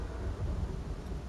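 Thunder rumbles through a storm in the Call of Cthulhu video game, a steady low roar with rain, dense and unbroken.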